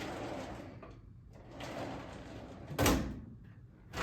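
The drawer of an old, low vintage filing cabinet in a small workshop slides open with one loud, brief scraping clunk midway, set against quiet room noise.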